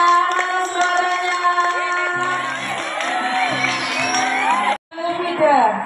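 Junior high school students in a crowd cheer and shout loudly for their teacher, with whoops over a steady roar and brief clapping, ending in a short gap before the noise resumes.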